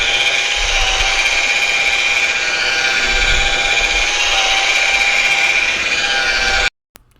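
A rotary polisher with a wool pad buffs fresh car paint at 1200 RPM, producing a loud, close, steady high whine that holds evenly before cutting off abruptly near the end.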